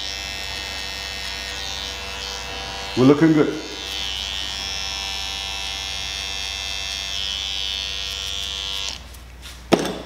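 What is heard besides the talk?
electric shaver buzzing during barber skin taper haircut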